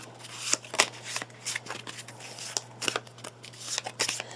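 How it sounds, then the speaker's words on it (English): A deck of cards for the Massive Darkness board game riffles and snaps through several quick shuffles, crisp bursts of flicking in an irregular rhythm, close and unaccompanied. "Let me shuffle these. Give these a quick shuffle."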